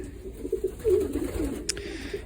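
Young pigeons coo softly in a breeding loft, a close, continuous low warbling murmur with a brief rustle near the end and no voices.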